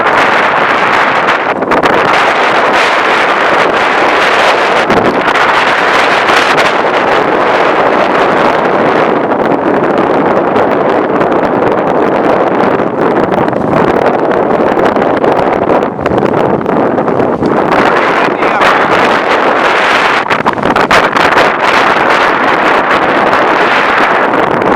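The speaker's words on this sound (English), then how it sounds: "probably the wind noise isn't too bad, but I'll step up into the wind and show you what it's like" Strong wind roars over the microphone aboard the sailboat S/V Seaquestor, a loud, continuous blustery rush that swells and dips slightly but never stops.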